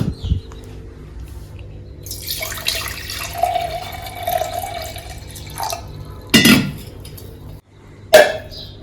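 Chilled water from the fridge pours into a glass for a few seconds, followed by a couple of short gulps and clinks, close up with no talking.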